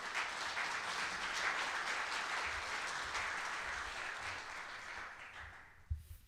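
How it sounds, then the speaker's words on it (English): Applause from attendees at a Rotary club meeting, steady sustained clapping from a roomful of people at moderate distance, gradually thinning and dying away near the end, with a couple of close knocks as it finishes. "Let's give a round of applause for our sponsor, Bob Buechner."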